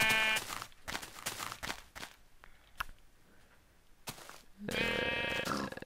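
Sheep in the Minecraft video game bleat in several loud, close bursts separated by quieter gaps, with a faint scuffle of steps between calls.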